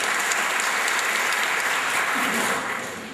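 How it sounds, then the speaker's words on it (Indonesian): Wedding guests in a church give sustained, dense applause for Pak Sutomo's birthday, steady and full before tapering off at the end. "Beri tepuk tangan buat beliau selamat ulang tahun."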